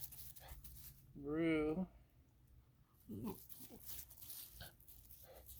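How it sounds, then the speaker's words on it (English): A dog gives a brief high whine that rises and wavers for under a second, close and fairly clear, amid quiet room noise and a voice speaking now and then. "A little bit of whining from the dog."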